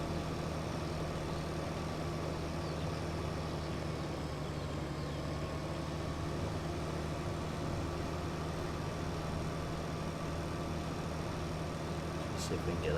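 A tractor engine idles in the farming video game Pure Farming 2018, a low steady rumble with an even hum that stays constant and moderately quiet for the whole span.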